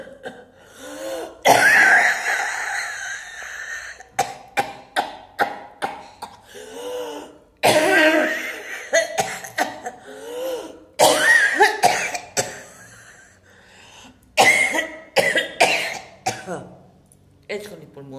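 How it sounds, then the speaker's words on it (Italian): A person coughs and clears their throat repeatedly in harsh, close bursts separated by short pauses, spread across the whole stretch with no other sound. "Escono i polmoni fuori quando tossiscono."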